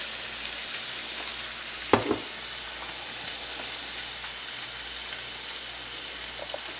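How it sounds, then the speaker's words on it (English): Whiting fish sears in a hot pot, a steady broadband sizzle holding throughout with one brief louder spatter or clatter near the two-second mark, close and with no voices. "So we're going to put the fish in the pot face side down."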